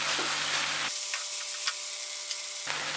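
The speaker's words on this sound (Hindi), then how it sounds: "तो इस स्टेज पर हम इसमें मशरूम मिक्स कर देंगे।" About 600 grams of mushrooms stirred into masala frying in oil in a pan, a steady close sizzle with soft scraping from the stirring, alone without talk.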